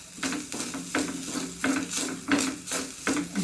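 Nuts being stirred as they dry roast in a pan, a steady run of scraping, rattling strokes about every half second, close and fairly loud with no talk.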